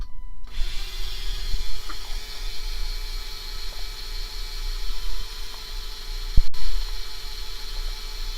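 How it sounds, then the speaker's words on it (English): A flex shaft rotary tool runs with a steady high whine and hum while drilling into a wine cork, with a sharp click partway through; the sound is moderately close and no one speaks. "we're going to drill this puppy."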